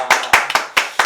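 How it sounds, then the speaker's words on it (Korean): A small church gathering claps to welcome a pastor. Five distinct, close hand claps come in an even rhythm, with short pauses between them. "우리 박사님이신 우리 여분영 목사님 우리 박수로 환영하겠습니다"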